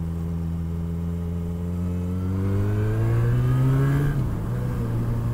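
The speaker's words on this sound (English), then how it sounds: "This is just traffic" A motorcycle engine hums steadily on a road, its pitch climbing as it accelerates, then dropping with a gear change, close and continuous with no talk.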